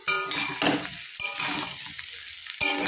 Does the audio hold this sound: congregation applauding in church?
no